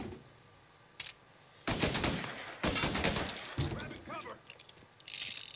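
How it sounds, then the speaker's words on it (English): Tommy gun fire in the video game Mafia Definitive Edition: several sharp bursts of rapid automatic shots with gaps between them, mixed with game effects and a speaking voice. "Oh, Tommy gun shreds."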